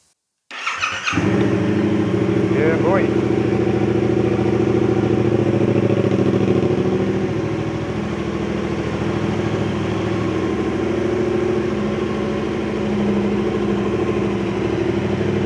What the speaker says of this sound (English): I'm going to just make sure it's going to start and run fine.